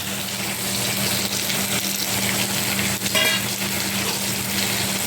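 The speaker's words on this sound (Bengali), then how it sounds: "এগুলো আমি এবারে একসাথে কষতে থাকবো" Bay leaf, ginger-cumin paste, turmeric and chili powder sautéing in hot oil for a fish curry, a steady loud sizzle with a faint stirring scrape and a brief splash-like rustle near the middle.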